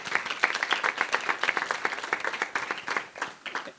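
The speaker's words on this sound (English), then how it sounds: "So if we could give them a round of applause." An audience at a symposium on teaching online claps for the event's organizers, a moderately loud spell of many hands with distinct individual claps audible, the clapping uneven and gradually tapering off toward the end.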